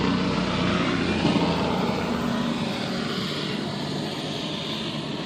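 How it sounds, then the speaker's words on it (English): An airplane passes overhead as a steady, broad roar that fills the whole stretch at an even loudness, with no talk over it. "I'm going to wait till this plane passes over."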